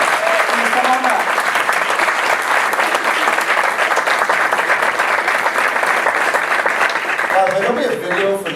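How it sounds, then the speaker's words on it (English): A large gala crowd gives a loud, sustained round of applause that fills the room evenly, with faint voices showing briefly at the start and as the clapping fades near the end. "give them a round of applause"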